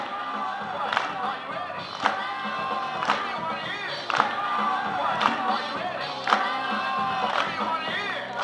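A crowd at a dance competition's judges' showcase claps and cheers loudly and continuously, with sharp clap accents landing about once a second in a steady rhythm and shouting voices mixed in.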